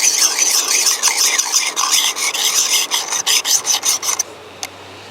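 A Work Sharp Precision Adjust sharpener grinds a knife edge with a close, loud, raspy filing sound. It runs as a continuous scrape, then breaks into distinct rhythmic strokes before stopping abruptly near the end.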